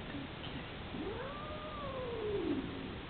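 A cat gives one long, drawn-out, complaining meow while being given a pill, rising then falling, close and moderately loud against a quiet room hiss.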